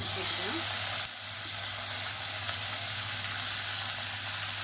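Spices with curry leaves and sliced large onion frying in hot oil for a Tamil idli recipe, a loud, steady, close sizzling hiss that dips slightly after a second and then holds.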